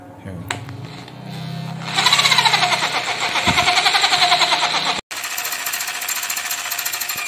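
A wood mortising machine for chiselling 1 cm to 18 mm mortises runs with a loud, steady, rapidly pulsing mechanical hammering and engine drone, briefly cutting out near the end before starting again.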